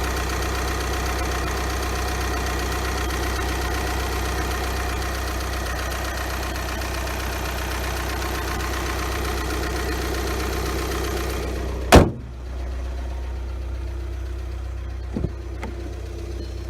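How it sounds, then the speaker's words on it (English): A Volkswagen 2-liter turbo diesel four-cylinder TDI idles after a cold start with a steady, even clatter and low drone. It then shuts off with a sharp clunk, leaving faint background noise. "Got the 2-liter turbo diesel 4-cylinder, Volkswagen's good old TDI."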